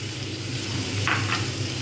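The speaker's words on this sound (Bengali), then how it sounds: "যতক্ষণ পর্যন্ত না টমেটো আর পেঁয়াজটা একদম নরম হয়ে যাচ্ছে, ততক্ষণ আমি কিন্তু ভালোভাবে এরকমভাবে ভাজতেই থাকবো" Tomato and onion frying together in a pan for an egg omelette curry, a low continuous sizzle with a brief stir of the spatula partway through, no voices.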